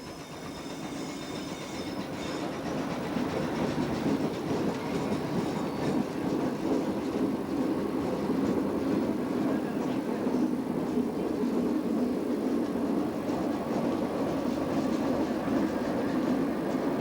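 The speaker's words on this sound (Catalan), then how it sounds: "Aquests vagons amb els que anem ara ja formen part d'un dels trens que circularà pel parc." Wagons of a mine train ride roll steadily at the Port Aventura theme park, a continuous rumbling clatter that builds over the first few seconds and then holds, close and fairly loud.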